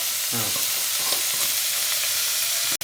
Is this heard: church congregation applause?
no